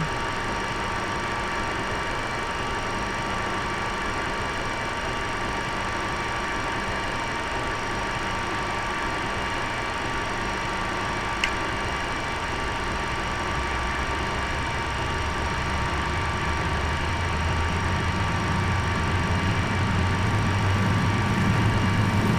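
Jet engines of an MD-82 spool up for takeoff in the Prepar3D flight simulator, a steady loud broadband roar with a constant whine that builds toward the end, alone without talk.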